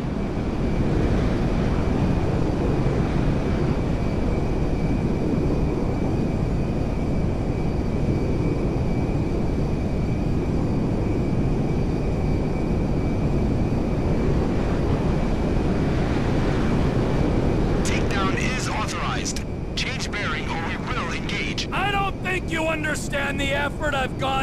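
An airplane comes in to land at a dirt airfield in the video game GTA V, a steady loud engine drone with wind-like rush throughout, joined near the end by sharp game sound effects.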